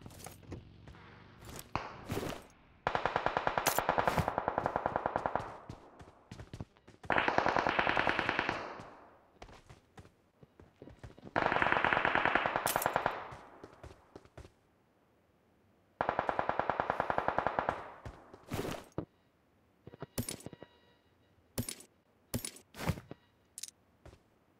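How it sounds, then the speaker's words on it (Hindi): Bursts of game gunfire in PUBG, a sniper firing from above, ring out as several sustained automatic volleys mixed with sharp single shots, loud and close, separated by brief pauses. "ये स्नाइपर चल रहा है ऊपर से"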